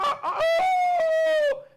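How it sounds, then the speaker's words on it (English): A rooster crows once, loud and close, with a long drawn-out tonal call lasting over a second, preceded by brief clucking. "So the chickens are crowing."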